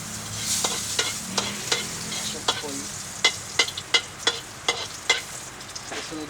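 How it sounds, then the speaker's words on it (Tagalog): Garlic sautéing in a hot pan: a constant close sizzle broken by a regular series of sharp spatula scrapes and taps against the pan. "Gisa po natin. Yes, bawang."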